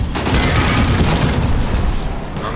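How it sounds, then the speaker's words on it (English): Grenade blast in the World War Heroes shooter game: a dense, loud booming burst that fills the short moment with crackling rumble. "Open wide, incoming grenade."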